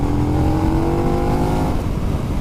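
A 2020 KTM Super Duke R pulls hard in fourth gear from low revs to overtake, its engine droning steadily and loudly with a rising, rough exhaust note throughout, no talk.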